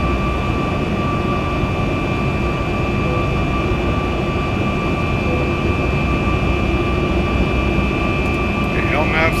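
Airliner jet engines roar steadily during a takeoff on runway 6 in the X-Plane 12 flight simulator. A loud, constant engine drone carries a sustained whine throughout.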